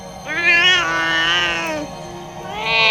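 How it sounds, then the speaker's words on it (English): A pet cat named Snowy meows loudly at a closed toilet door, giving a long, drawn-out wail followed by the start of a second cry, close and prominent, with no talking. "My cat then begins to meow loudly at the toilet door"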